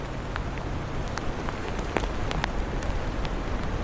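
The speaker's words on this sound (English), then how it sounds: "Starting to low-key get worse with the rain." Rain falls steadily on a forest trail, a constant hiss with scattered sharper drops tapping through, moderately loud and with no voices.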